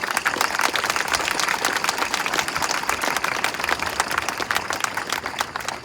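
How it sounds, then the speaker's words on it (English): Audience applause at an outdoor memorial ceremony honoring the builders of a tomb, a steady, dense wash of clapping that holds at an even level for the whole stretch with no voices over it. "Can we give them a round of applause, please?"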